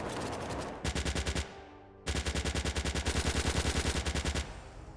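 Video game machine gun firing in fast, even bursts: a short volley, a brief pause, then a longer sustained stream of evenly spaced loud shots, close and with no talk over it.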